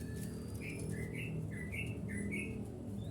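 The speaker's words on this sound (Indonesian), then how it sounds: "Waktunya kasih makan, burungnya sudah pada pulang." Several short bird chirps ring out in quick succession, moderately close, over a steady low background hum, as pet birds return home at feeding time. No one speaks.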